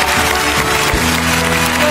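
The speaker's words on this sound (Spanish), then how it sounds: "un aplauso a todos los técnicos" Studio audience applauding the technicians on the set of La Voz: a brief, loud burst of dense clapping over a low sustained hum, with a thump near the middle.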